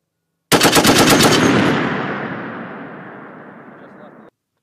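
An M2 .50-caliber and M240 machine gun fire during a military live-fire exercise: one loud burst of fast shots, then a long rolling echo that fades out over several seconds.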